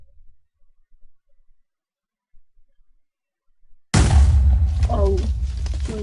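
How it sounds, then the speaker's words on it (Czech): A loud, sudden explosion sounds in Minecraft with a mod installed, after several seconds of near silence, followed by a rumbling, crackling tail. "To dalo slušný výbuch."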